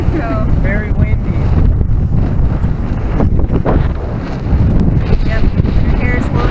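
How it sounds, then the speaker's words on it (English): Strong wind buffets the microphone with loud low rumbling gusts, while faint voices come and go in the background. "Very windy."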